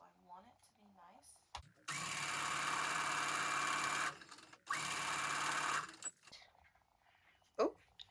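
A sewing machine stitches patchwork pieces for a tote bag, two loud, close, sustained runs of rapid whirring motor and needle clatter separated by a brief pause, with quiet talk and handling sounds before and after.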